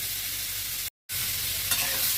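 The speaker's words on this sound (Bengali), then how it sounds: "সবটা ভালোভাবে মিশিয়ে দেবো।" Cauliflower stalks stir-fried with mixed vegetables in a pan make a constant close sizzle, broken by a brief silent gap, then a faint scrape of stirring, no voices.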